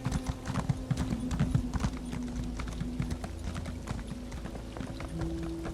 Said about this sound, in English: What would it be like to have full stamina on a horse and full speed?